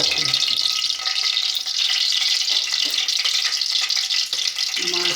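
Chicken pieces fry in hot oil for an aloo gosht curry, giving a dense, continuous bubbling sizzle close up, with a few stirring knocks and scrapes against the pot near the end.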